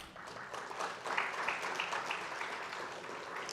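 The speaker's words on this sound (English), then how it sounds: "if I could get a round of applause" Moderate applause from an audience at an ARIN 54 meeting as sponsors are thanked, a soft, continuous patter of many hands, fairly distant and quiet.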